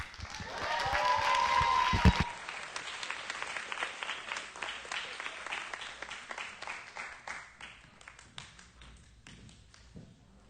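Applause at a scholarship ceremony: a louder burst of clapping at first, then thinning into scattered, distinct claps that slowly fade away.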